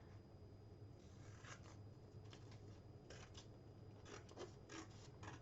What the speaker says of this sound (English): I just did that with my scissors